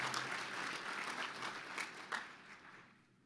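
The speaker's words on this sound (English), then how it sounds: "we want to give everyone who's worked in this area a big round of applause." An audience at an Economic Club of Indiana luncheon breaks into a round of applause, dense clapping that sounds somewhat distant and fades out near the end.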